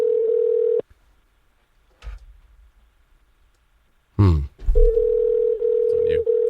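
A telephone line gives a steady tone that cuts off, then after a silent gap resumes and holds under loud nearby voices talking over it.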